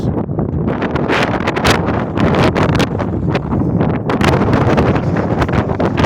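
Cold wind blows hard at a seaside park in Jubail, Saudi Arabia, roaring and buffeting the microphone in loud, uneven gusts with a rustling edge.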